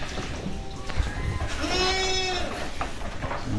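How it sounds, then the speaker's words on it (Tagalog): Goats bleat on a Philippine farm, one wavering bleat standing out clearly amid softer calls and general barn noise, moderately close, with no talk. "Yan po yung mga kambing natin rito."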